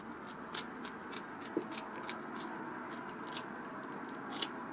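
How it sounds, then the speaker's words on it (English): Scissors snipping through coarse horsehair bush material, a quick series of faint, crisp cuts close by at an irregular rhythm, with no talk. "it is quite coarse to cut through"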